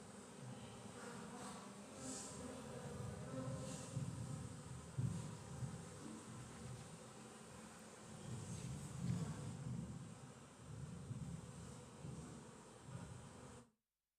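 Honeybees fill an opened hive box with a steady, dense buzzing, heard close and continuous with gentle swells in intensity, then cutting off abruptly.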